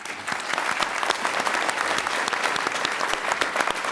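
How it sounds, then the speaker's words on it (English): A large audience at a university graduation ceremony applauds its new graduates with steady, dense clapping that fills the whole hall, loud and continuous with no voices on top. "Can you please all honour our new graduates with your applause?"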